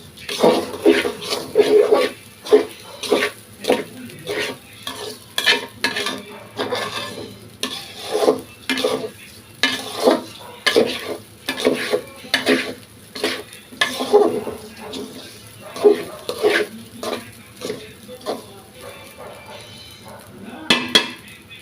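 Raw rice is dry-frying in a pan for chicken biryani, giving off irregular crackling and popping along with repeated scrapes and clinks of a stirring spoon against the pan, close and fairly loud, with some talk alongside.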